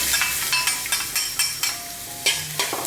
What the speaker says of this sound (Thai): รอน้ำมันร้อนแล้วก็ใส่กระเทียมสับลงไปเลย